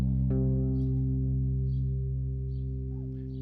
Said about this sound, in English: I'm going to make this C drone first.